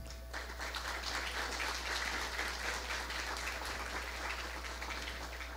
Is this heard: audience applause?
yes